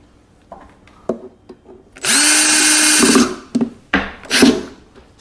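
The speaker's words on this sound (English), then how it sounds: "Now I have my drill on the lowest setting" A power drill on its lowest setting drives screws into a birch cabinet during an Electro-Voice ETX-15SP subwoofer install. It whirs in one steady second-long run, then gives two shorter bursts, with small knocks and clicks between them and no talking.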